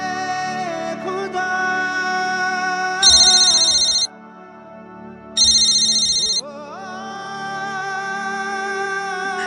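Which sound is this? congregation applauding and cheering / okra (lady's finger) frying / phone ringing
phone ringing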